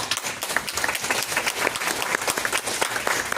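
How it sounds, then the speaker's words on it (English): Audience applause fills the room at a board of education candidates forum, a steady burst of many hands clapping close and loud for the whole stretch. "can I have a round of applause for that?"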